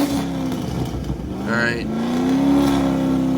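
A car's cammed LS V8 idles with a choppy lope, then revs up and holds a rising, loud drone; someone speaks briefly over it.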